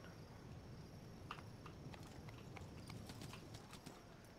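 Horse hooves clip-clop in the video game Tiger Knight, a steady patter of hoofbeats over dense battlefield noise, with no one speaking.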